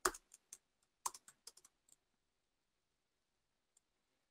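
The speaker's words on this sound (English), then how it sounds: "as I'm typing," Keys clatter on a computer keyboard during a web demo, in a quick burst of close clicks followed by sparser single taps, then a long quiet pause with one last faint tap near the end.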